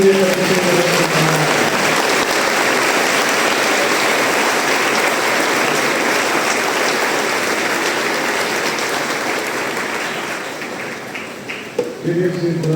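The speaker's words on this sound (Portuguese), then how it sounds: "Uma salva de palmas, igreja, para o Senhor." A church congregation applauds at length in steady, dense clapping that fills the space, with rain-like texture beneath and fading slightly near the end.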